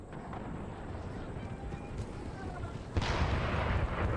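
Cannon fire from a naval or land battle in Empire: Total War, muffled booms rumbling under ambient battle noise, with a heavier burst of firing striking near the end.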